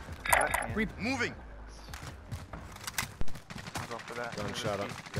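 Gunfire in the video game Call of Duty: Modern Warfare, sharp shots and bursts scattered through a noisy firefight while voices talk over them throughout.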